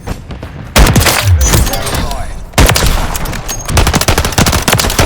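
Gunfire rattles in Call of Duty played on a PlayStation 5. Loud bursts of automatic fire come in rapid volleys with heavy impacts, mixed with game voices and battle noise.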